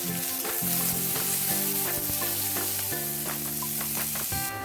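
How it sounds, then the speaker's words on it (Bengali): Onions browning in hot oil with roasted cumin, cooked for sabudana khichdi, give a close, continuous sizzle. A low steady hum runs underneath, and nobody speaks. "পেঁয়াজটা ব্রাউন করে ভেজে নিতে হবে"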